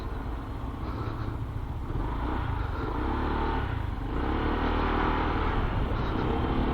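A Euro Falcon 180i scooter accelerates hard, its engine rumbling loud and steady with a rising drone throughout, no talk over it.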